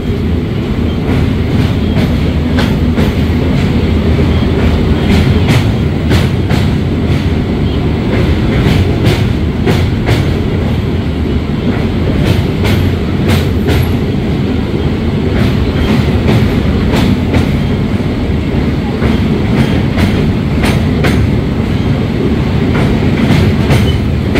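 A passenger train crosses the Rupnarayan river, heard from onboard on a Digha to Dakshineswar special-fare service. There is a loud, continuous rumble with rhythmic clickety-clack beats from the wheels passing over rail joints.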